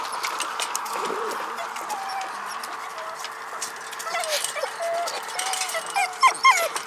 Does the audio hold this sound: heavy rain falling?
no